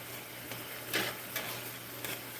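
Paddle cactus pieces stir-fried in a pan with shrimp, a soft continuous sizzle broken by a few quick scraping stirs, fairly quiet and close.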